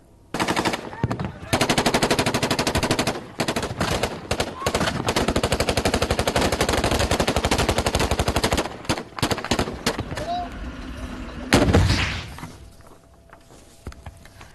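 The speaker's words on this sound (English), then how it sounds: "Iraqi security forces have engaged in heavy gun battles with Daesh terrorists south of the western side of Mosul." Heavy gunfire in a battle south of western Mosul, Iraq, between Iraqi security forces and militants: sustained dense automatic bursts fill most of the span, loud and continuous, easing toward the end with a final heavy blast.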